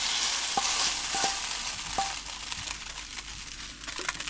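Beef stir-frying in a pan, a steady loud sizzle with repeated scraping strokes of a utensil against the pan about every half second, close up with no talk.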